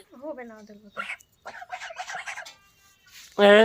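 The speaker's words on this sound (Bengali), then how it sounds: "এই যে মৌয়ের তিনটা হাঁস রাজহাঁস" Pet domestic geese, three of them, give a short honking call, then a louder, harsher one close by, with human voices and rustling between the calls.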